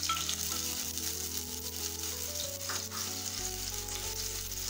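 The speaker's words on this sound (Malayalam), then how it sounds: "ഇനി നമുക്ക് ഇതിലേക്ക് നീളത്തിൽ അരിഞ്ഞു വെച്ചിട്ടുള്ള സവാള ചേർത്ത് കൊടുക്കാം." Long-sliced onions frying in hot oil in a pan for kovakka mezhukkupuratti, a steady close sizzle with a low hum underneath and no talking.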